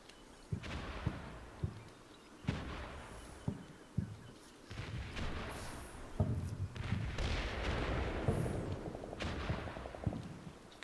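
An artillery fire mission in the Cold War tactical game Combat Mission Cold War, with repeated distant booms and sharp cracks at irregular intervals, a faint rumble running between them.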